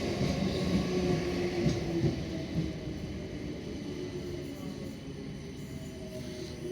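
A South Western Railway Class 458 electric train rumbles at Wandsworth Town station, a steady mechanical hum and rolling drone with faint higher whine, gradually easing, no clear talk.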